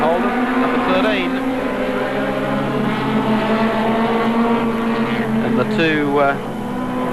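Race cars from the 1986 Australian 2 litre touring car championship, Toyota team cars among them, drone loudly and continuously as they circuit the track, under steady commentary.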